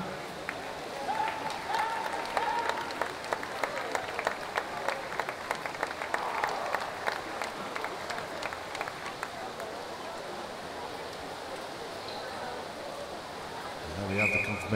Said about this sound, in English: Round of applause for Ethan.